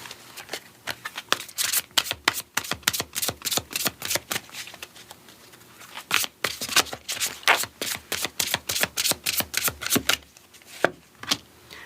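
Oracle cards are shuffled close up during a tarot reading. Rapid crisp riffles and flicks come in bursts with short pauses between them, and no one speaks.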